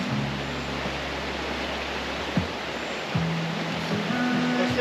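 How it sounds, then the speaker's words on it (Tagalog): River water flows steadily beside a riverside spot in Chilliwack, British Columbia, a constant rushing wash with a faint low hum running underneath. "Sarap ng agos ng tubig."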